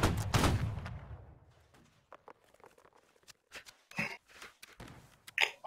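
A line infantry volley in the video game Holdfast: Nations At War, one loud, booming massed musket discharge up close, followed by scattered distant shots, clicks and footsteps.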